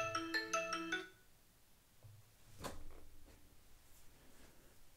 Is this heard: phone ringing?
yes